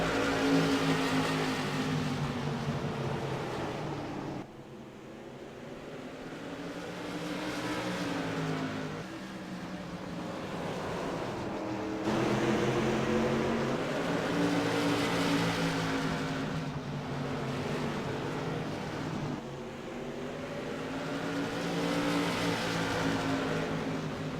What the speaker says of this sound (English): Off of turn 4, they get on the throttle.